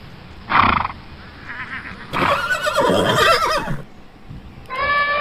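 A horse snorts once, then gives a long, shrill neigh, and a higher whinny rises again at the end, close and clear with no talk.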